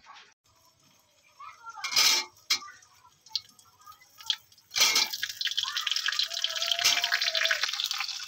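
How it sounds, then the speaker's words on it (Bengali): Chopped raw mango dropped into hot oil with panch phoron and dried red chillies, a few scattered taps and drips at first, then a burst of loud sustained sizzling that carries on to the end. "এবার দিয়ে দেব কেটে রাখা আম"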